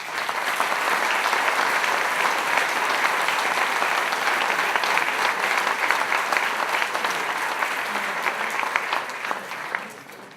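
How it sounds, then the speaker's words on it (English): Sustained applause from a gala audience at the Sofitel during a birthday tribute, a dense, even wash of clapping lasting about ten seconds before thinning slightly at the end. "Another round of applause for Greg."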